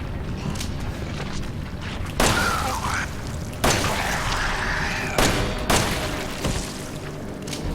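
Gunfire in the horror video game Resident Evil 7, several heavy booming shots spaced a second or two apart over a dense, rumbling game soundscape.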